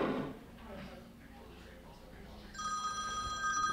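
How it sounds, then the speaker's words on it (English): An incoming phone call rings near the end, a bright electronic trill that starts partway in over quiet background noise, following a brief burst of talk at the start. "Phone call."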